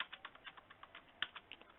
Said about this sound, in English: the business stakeholders, they come here typing their questions on a line basis